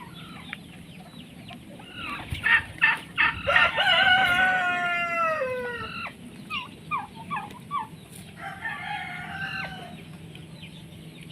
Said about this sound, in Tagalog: niitlogan din pala ng manok